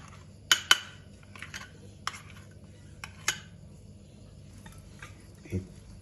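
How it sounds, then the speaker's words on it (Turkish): Two spoons stir a beetroot pickle, clinking faintly against the bowl in a few scattered taps and scrapes, with quiet pauses in between and no talking. "İki kaşıkla güzelce bir karıştırıyorum."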